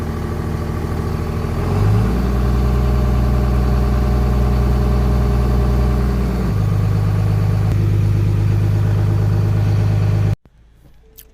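A 2nd gen Cummins diesel engine idling after a cold start, loud and close, with a steady low drone that shifts pitch twice as it is given gas, then cuts off abruptly near the end.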